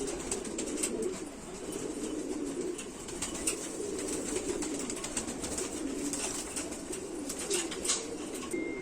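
A pair of female racing pigeons coos beside the Sialkoti canal, soft low coos repeating steadily through a constant hiss of outdoor background noise, with no voices.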